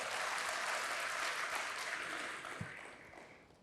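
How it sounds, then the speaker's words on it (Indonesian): A church congregation applauds in praise of God, a broad, full wash of clapping that holds strong and then gradually thins and fades toward the end. "Berikan tepuk tangan bagi Tuhan."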